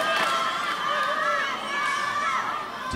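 A large crowd roars and cheers at a badminton mixed doubles final, a dense sustained wash of voices with rising whoops, heard from within the arena.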